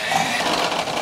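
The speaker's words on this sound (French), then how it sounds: "on va passer ça à la mixette" An electric hand mixer beats butter and sugar in a steady, close, continuous whir.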